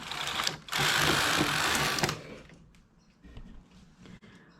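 A knitting machine carriage slides across one row on the front bed while making a tubular edge, giving a loud whooshing mechanical rasp of about one and a half seconds, then fading into faint clicks and handling noises.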